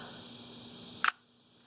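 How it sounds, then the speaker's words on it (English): A FED 5B Soviet film camera's shutter is pressed. It gives one crisp, close mechanical click in a quiet room, then the faint background hum drops away. "basically you move that forward, and then you can press the shutter"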